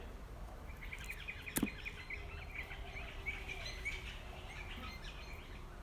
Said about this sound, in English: Parrots having a bit of a play down the back.